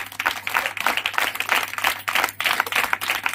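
A crowd at a church sermon and leadership seminar claps together, a dense, steady wash of hand claps that holds close and loud for the whole stretch with no talking over it.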